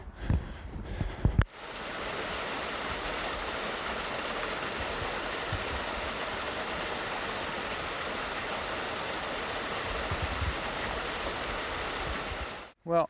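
A stream runs under the ice of a frozen waterfall on a New Brunswick trail, giving a steady broadband rush of flowing water that holds constant for most of the stretch, with brief handling noises at the start and end.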